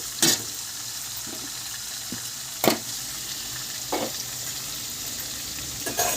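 Upma ingredients fry in a pan with a steady low sizzle, broken by a few sharp clinks and scrapes of stirring, close by with no talking.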